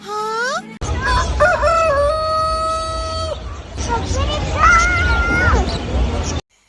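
A rooster crows loudly at a festival's forest-themed exhibit, with a rising call at the start followed by long sustained crowing tones over steady crowd babble.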